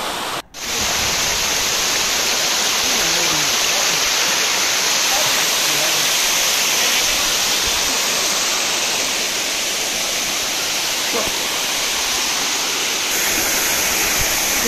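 Ermayi Falls in Tulunadu roars as a steady, loud broadband rush of falling water that fills the whole stretch, with a brief dip near the start.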